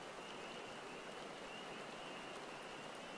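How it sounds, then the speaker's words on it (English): Steady rain falling in the video game Final Fantasy XIV, an even, continuous hiss that runs unchanged through the whole stretch with no talk over it. "it's raining, and the rain sucks."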